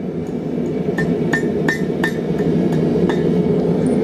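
A hammer taps a nail being shaped into a sword over the horn of an anvil, about ten quick bright metallic clinks in a steady rhythm, close and clear over a low background hum.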